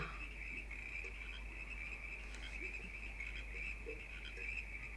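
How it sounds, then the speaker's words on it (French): A chorus of frogs croaking steadily at night, with a continuous high insect trill running underneath, fairly distant and even. "Plus ces grenouilles chantent et plus tu les entends."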